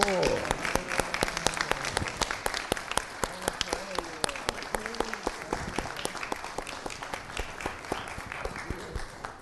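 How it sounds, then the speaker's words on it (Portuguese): Audience applause at a medical education symposium rises as a steady patter of many hands clapping for about nine seconds, fairly faint and distant with a voice speaking over it. "pedir uma salva de palmas"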